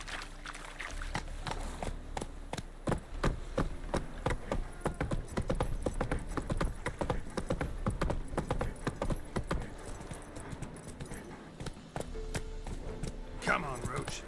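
Roach, the horse in The Witcher game, gallops with a rapid, rhythmic clip-clop of hooves that runs nearly the whole time, close and fairly loud, with a few brief gaps.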